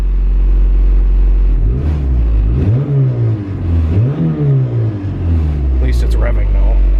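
A turbocharged Honda Civic engine revs up and down in several rising and falling sweeps, loud and close, over a steady idle rumble.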